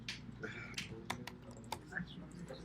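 Typing on a computer keyboard while running a coding project, with quick irregular key clicks close by and some sharper taps, over a low steady background hum.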